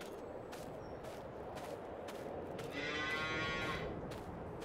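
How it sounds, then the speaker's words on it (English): Cows moo on a farm in the video game Farming Simulator 22, with one drawn-out moo rising over a steady background hum in the second half, heard alone without talk. "Right, cows. They need feeding, you need to give them straw bedding."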